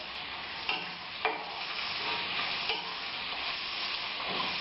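Sliced onions fry in hot oil over a high flame for chicken biryani, making a constant, even sizzle with a few soft knocks of stirring.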